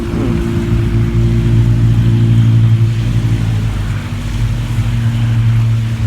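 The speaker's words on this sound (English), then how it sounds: "Those are motorcycles." Motorcycles on a Sunday group ride pass close by, their engines making a loud, sustained droning hum that holds steady for several seconds with a slight dip midway.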